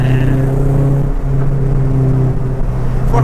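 A 2000 Honda Civic EK engine drones steadily while driving, a close, loud cabin hum holding a constant pitch before rising slightly in a rev at the very end.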